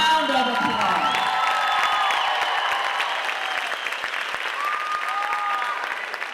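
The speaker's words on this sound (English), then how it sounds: "Give them a round of applause." Audience applauding at an 8th grade bridging ceremony, dense clapping with a few whoops and cheers, loud and sustained across the whole stretch while a voice speaks briefly over it.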